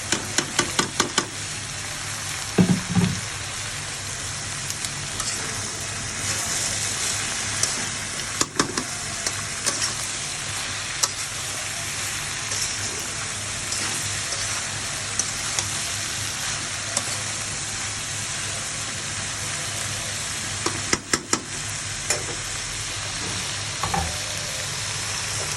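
Green chillies and coriander leaves fry in a pan with a continuous loud sizzle, broken now and then by the scrape and knock of stirring against the metal.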